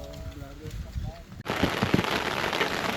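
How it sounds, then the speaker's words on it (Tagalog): Heavy rain pours down hard near Nangoloan Falls in San Felipe, Zambales, a dense hiss that swells suddenly louder partway through, with scattered heavier splatters and faint voices early on. "Ang lakas ng ulan."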